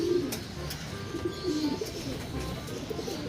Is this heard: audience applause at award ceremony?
no